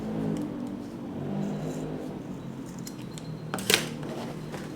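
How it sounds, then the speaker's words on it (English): Scissors trimming excess fabric on a long-tail scrunchie, a faint quiet stretch ending in one sharp, close snip near the end. "Cut the excess fabric."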